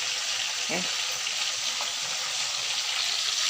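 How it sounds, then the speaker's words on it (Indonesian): Chicken pieces frying in hot oil for Indonesian ayam goreng, a loud, continuous close sizzle with a brief clink of a utensil early on and no talk. "Ayam gorengnya sekarang lagi digoreng"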